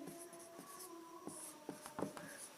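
Marker or chalk writing an answer on a board in a maths lesson, a series of short squeaky strokes and taps at an irregular rhythm, quiet and close, with no talk.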